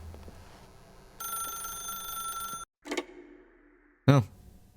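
A steady electronic telephone ring sounds for about a second and a half in The Stanley Parable video game, then cuts to silence, followed by two short, loud bursts of other sound.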